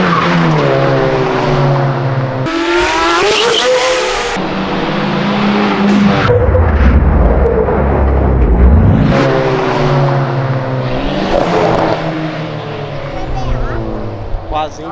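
Car accelerating hard on Avenida Europa, engine revving up and down through gears with tires squealing, loud and near, as people talk excitedly over it.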